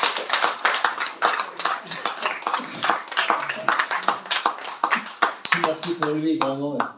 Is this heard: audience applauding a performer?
yes